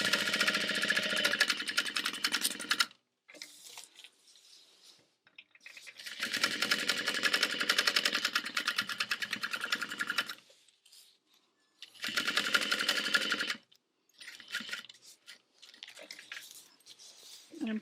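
A sewing machine stitching fabric for a backpack runs in three long bursts of rapid, buzzing needle strokes, stopping and starting between them, up close and without any talking.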